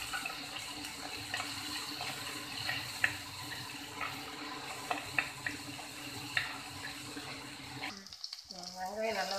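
Sliced onion and green chili sautéing in a pan with mustard seeds and urad dal, a soft steady sizzle with small pops and stirring scrapes, ending in a brief louder clatter and a voice.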